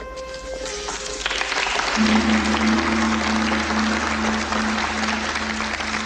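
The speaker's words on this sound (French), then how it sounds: "Applaudissez-le très fort, s'il vous plaît." Audience applause for a combat instructor at a demonstration, a broad steady wash of clapping that swells after a brief opening, with a sustained low tone running underneath.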